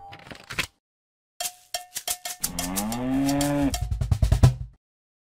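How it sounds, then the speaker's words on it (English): A cartoon cow in the Play-Doh Seek and Squish game lets out a long, drawn-out moo, set between clanking cowbell rings and short chimes, all close and clear. "You found the cow!"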